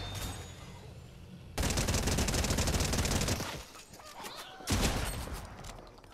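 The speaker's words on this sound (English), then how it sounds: "Who dare shoot at me?" Video game gunfire aimed at the player: a dense automatic burst breaks out abruptly, runs for about two seconds, eases off, then a second loud burst follows near the end, with no talking.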